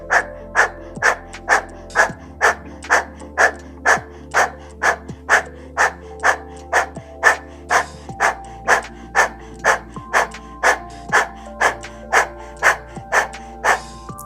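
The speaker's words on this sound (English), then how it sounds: "stick your tongue out, and we'll begin our breath of fire with our panting." Rhythmic open-mouthed panting of a breath of fire breathing exercise with the tongue out, about twenty quick even breaths in steady succession, close and clear over a low continuous hum.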